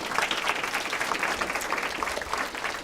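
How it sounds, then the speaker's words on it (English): Dense applause from a sizable crowd, steady clapping that holds at a constant level throughout. "Please give a round of applause for these wonderful volunteers."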